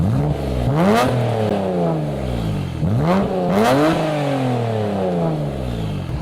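A Nissan Skyline R33 GTR's aftermarket exhaust revs hard twice, each rev climbing to a loud rasp before falling back to a throaty idle, with no talking.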